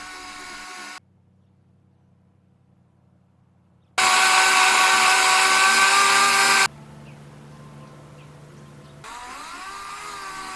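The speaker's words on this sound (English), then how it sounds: "Now everything's final sanded, nice and smooth." Power sander working on a melamine sink mold for a DIY concrete countertop, heard in separate bursts of steady whining drone, loudest in the middle stretch, with quieter low hum between.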